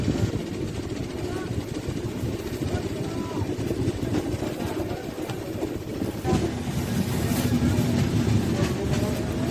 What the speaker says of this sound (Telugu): ఏదో ఎక్స్ప్రెస్ ట్రైన్ ఓవర్టేక్ చేసి వెళ్ళిపోయింది